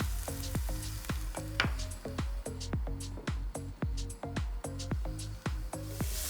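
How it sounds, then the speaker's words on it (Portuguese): Sliced leek rounds sautéing for a creamy leek risotto, with a steady sizzle under a run of sharp, regular knocks of a spoon or spatula against the pan, close and fairly loud, with no talk. "O alho poró, que é um legume aromático, entra logo no refogado e a gente já pode colocar aqui."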